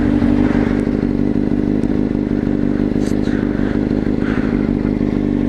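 A Honda CBR motorcycle engine idling roughly with an uneven, rattly tick and occasional clattering scrapes over the steady low rumble, heard up close.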